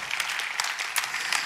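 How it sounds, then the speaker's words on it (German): A church congregation claps through a short burst of applause, a dense, steady patter of many hands filling the room with small peaks of louder clapping. "Lass uns dem Gott einen Applaus geben."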